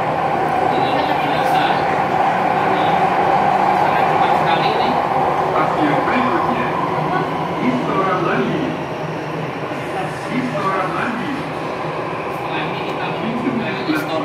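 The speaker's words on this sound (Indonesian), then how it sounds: "atau subway ya, kereta bawah tanah." A Jakarta MRT subway train runs underground, a loud, steady rolling roar and hum from inside the carriage that eases slightly partway through, with voices speaking over it.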